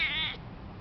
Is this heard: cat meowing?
yes